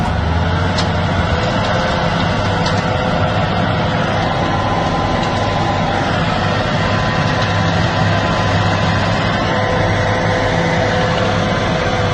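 An ATV engine drones loud and close in a continuous, steady roar with broadband rumble. The sound persists for the whole stretch without clear breaks.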